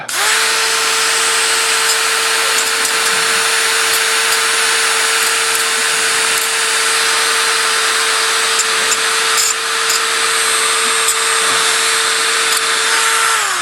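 A power tool polishes the trigger bolt spring of an 1861 Navy revolver, giving a loud, close, continuous high whir with faint scraping contact sounds throughout.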